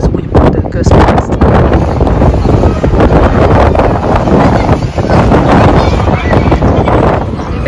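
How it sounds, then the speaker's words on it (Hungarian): Strong seaside wind at Weston-super-Mare blasts the microphone in loud, continuous gusts, heavy low rumble throughout, with a voice partly buried beneath it. "itt olyan marha nagy szél van"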